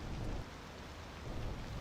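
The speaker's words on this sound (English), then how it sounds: "The rain doesn't stop?" Rain in a video game, a steady, even hiss of falling rain with a low background rumble, continuous and moderately quiet with no voices.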